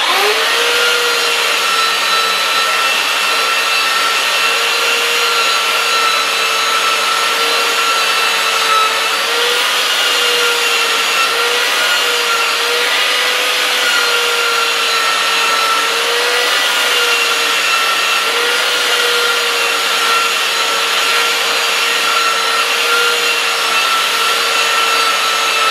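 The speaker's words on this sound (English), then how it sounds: "now I'll just take the rest of it off with the 80 grit" A belt sander fitted with an 80 grit belt sands ink off a carving, giving a loud, continuous motorized whir and abrasive rasp that holds steady throughout with slight pitch wobbles.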